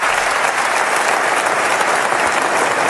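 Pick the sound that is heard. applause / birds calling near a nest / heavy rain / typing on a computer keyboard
applause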